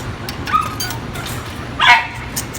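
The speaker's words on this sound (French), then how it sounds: "il y a les chiens qui commencent à être impatients" Impatient dogs barking near a public phone booth in Taiwan, several sharp barks and yips scattered across the span, one louder burst near the end, moderately close.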